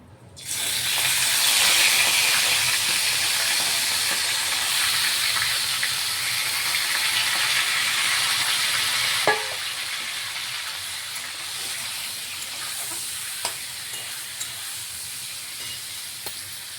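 Washed mutton pieces hit hot oil flavoured with asafoetida in a pan for Kashmiri rogan josh, giving a loud, steady, hissing sizzle throughout, with a few clinks from added pieces and no talking.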